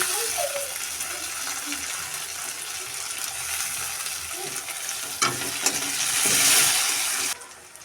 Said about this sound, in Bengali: আমার পেঁয়াজগুলো এখন লাল লাল করে ভাজা হয়ে গেছে